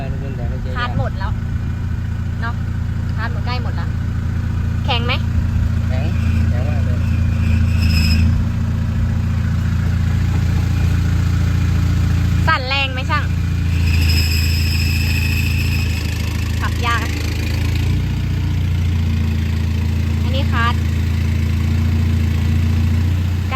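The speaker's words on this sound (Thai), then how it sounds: "อันนี้คืออาการลูกปืนแตก" A car with a broken bearing runs steadily with a low, constant engine drone and hum throughout, while people talk intermittently nearby over the noise.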